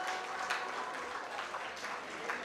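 An audience at a Rotary Club Charter Day celebration in Kathmandu applauding to welcome a donor: steady, fairly faint crowd clapping that lasts the whole stretch without a break.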